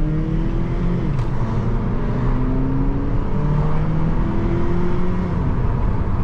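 A 2020 Jeep Compass Limited engine revs and climbs through gears in manual shift mode on a test drive, steady loud cabin drone with rising tones that drop at each shift, no talking.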